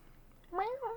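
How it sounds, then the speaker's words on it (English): A cat gives a short, clear meow, a single rising and falling call after a quiet moment. "I fucking hate that cat."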